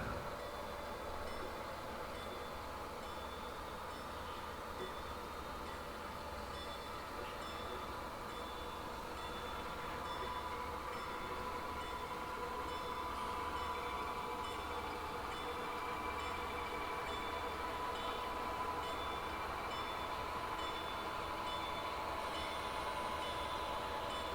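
A steady, continuous mechanical rumble and whir of a model train running along its track on a layout straightaway, even and unbroken throughout with no talking.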